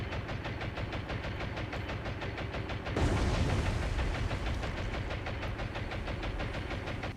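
A torpedo strikes a supply ship in the naval war game War on the Sea: a loud, sudden broadband blast bursts in midway over a steady rhythmic engine-like rumble and stays heavy afterward.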